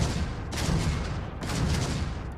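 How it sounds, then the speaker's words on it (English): Particle weapons firing in the Starfield video game during a ship battle, a dense continuous barrage of crackling bursts and booms at steady loud volume, with no talking. "Particle weapons."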